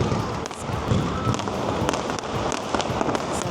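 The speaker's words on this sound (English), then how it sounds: "So the Saturday night fireworks starts at 9 p.m." Saturday night fireworks over Darling Harbour, a continuous crackle of distant pops and bangs over a steady crowd murmur, moderately loud and sustained throughout.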